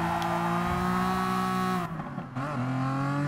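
The engine of a TVR Tuscan Speed 6 in Gran Turismo Sport drones at high revs, then cuts out briefly in a quick gearshift before pulling again, loud and close with no voices.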